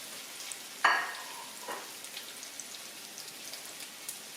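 A sharp hiss as hamburger patties hit the pan, then a steady crackling sizzle continues quietly, with no talking.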